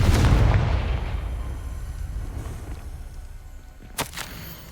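Confringo fire spell blast in Hogwarts Legacy: a loud, booming explosion with a rumbling tail that fades over a few seconds, then a sharp crack near the end.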